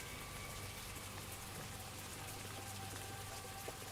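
Steady rain falling during a night battle in a cemetery in the game Veterum, a constant, even hiss of drops that fills the whole clip without voices.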